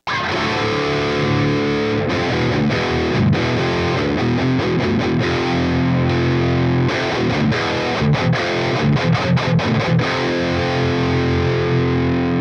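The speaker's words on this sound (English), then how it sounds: "adding that tube screamer to it, you can hear that little extra bite" Electric guitar through an Ibanez Tube Screamer overdrive riffing with a gritty, biting distortion, chords and chugging notes played continuously and loud.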